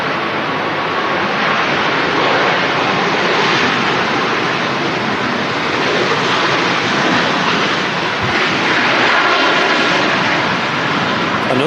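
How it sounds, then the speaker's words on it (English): Ryanair Boeing 737 MAX jet arriving at Manchester Airport with reversers still deployed, a loud continuous broadband engine roar that fills the whole stretch steadily, with no clear voices over it. "Another Max arriving."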